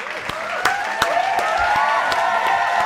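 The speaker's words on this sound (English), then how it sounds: "let's give you a round of applause" Audience applause at a comedy talk show, a steady dense wash of clapping that holds at an even level throughout, with a sustained voice-like tone riding over it.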